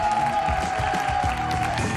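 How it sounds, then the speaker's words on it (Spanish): A Spanish television studio audience applauds briefly, a dense wash of clapping with faint cheering under a steady tonal hum, lasting about two seconds. "Aplauso para los dos."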